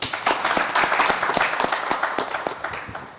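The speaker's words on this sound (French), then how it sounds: "Applaudissez pour elle." A crowd applauds at an anniversary celebration for a musical group, steady rapid clapping from many hands filling the space, loud and close, fading slightly toward the end.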